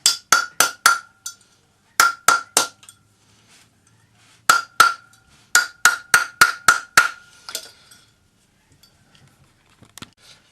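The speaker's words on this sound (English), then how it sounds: "I round this up using a rawhide hammer" Sharp metallic taps from a rawhide hammer rounding a 2.5mm forged wire bangle, in quick clusters of three to five, ringing briefly, with short gaps between groups, close and loud.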